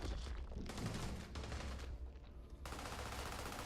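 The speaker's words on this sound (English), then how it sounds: "while the fleet is shooting at Geronimo" Rapid fleet gunfire in the video game Starfield comes as dense, sustained automatic bursts, loud and continuous with brief dips between volleys.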